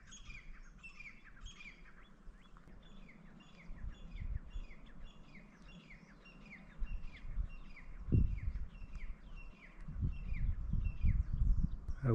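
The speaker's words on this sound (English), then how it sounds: "Yeah, that bird has a lot to say." A bird in Hawaii calls outdoors with repeated rhythmic squawking chirps, moderately close, over a low rumble of wind and handling noise that grows louder toward the end.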